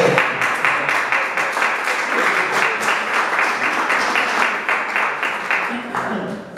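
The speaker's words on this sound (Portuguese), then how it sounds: "Mas o pessoal já bateu mesmo assim. Então recebemos os aplausos." Audience in a church applauding, a dense, steady wash of clapping lasting several seconds at moderate distance, with a voice faintly speaking underneath.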